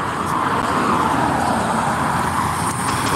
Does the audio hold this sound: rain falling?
no